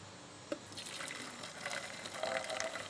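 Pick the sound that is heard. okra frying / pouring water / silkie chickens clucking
pouring water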